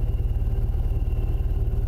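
A car engine idles steadily in the horror game Fears to Fathom, a low, even rumble with a regular pulsing throb that holds at a constant level through the whole short stretch, with no one speaking.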